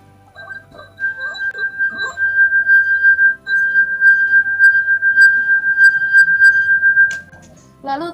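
A wine glass sings as a finger rubs its rim, a steady pure ringing tone that holds for several seconds over faint handling noise, during a simple physics resonance demonstration.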